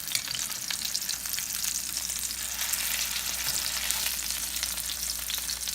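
A steady, dense crackle of pork frying in a pan after being flipped, a close, even hiss with no pauses and no voices.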